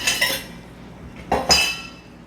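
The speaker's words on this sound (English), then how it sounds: "So we're going to stir it up" A spoon scrapes and clinks against a pan while Philly cheesesteak sloppy joe mixture is stirred, giving a few sharp metallic chinks and short scraping bursts close by.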